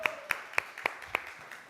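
A handful of sparse, sharp handclaps from an audience at a Krishna Katha devotional talk, about five evenly spaced claps at moderate distance, fairly quiet, with no talking.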